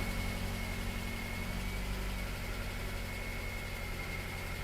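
A Mazda 5 engine idling with a slight tick, a steady low hum and rumble at moderate level, running evenly throughout with no voices over it.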